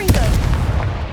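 A Confringo spell blast goes off in Hogwarts Legacy as a single loud, close explosive boom with a sharp attack and a rumbling low tail that fades over about a second.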